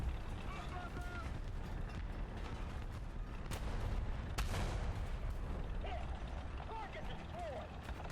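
Tank cannon shots in War Thunder from an M60 120S: two sharp booming blasts land a second apart midway, over steady engine rumble and mechanical clatter, with a voice talking throughout.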